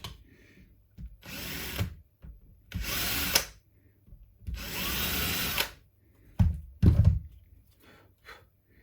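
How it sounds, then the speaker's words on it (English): A power drill countersinks screw holes in the body of a cheap DIY guitar kit, with several whining bursts of a second or so each, separated by pauses and a few knocks and thunks. "So we'll countersink so we can fit the screws in."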